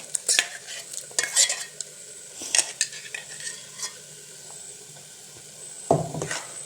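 A spoon stirs masala with ground paste in a pan for chickpea curry, with intermittent scraping strokes over a faint, steady sizzle, close and fairly quiet.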